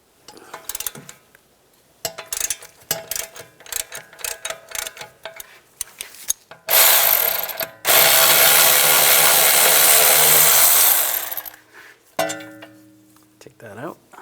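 Rear brake caliper bracket bolts on a 2014-2022 Jeep Cherokee are removed with a T55 socket. Quick bursts of close ratchet clicks come first, then a long, loud, harsh whirring stretch, and a few scattered clicks at the end.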